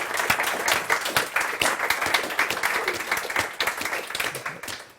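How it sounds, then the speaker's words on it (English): Audience at a Free Market Road Show conference applauds a panel, a dense, steady round of clapping from many hands close by that holds for the whole stretch with a faint voice or two underneath. "I think we should thank this panel with a round of applause"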